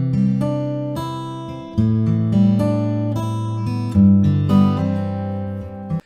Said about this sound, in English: let's just switch that send off so we can hear how that acoustic guitar sounds without the reverb